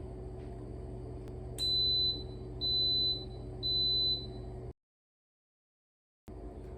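An Instant Pot electric pressure cooker signals the end of a two-minute high-pressure cook with three evenly spaced, clear electronic beeps over a steady low kitchen hum, with no talking.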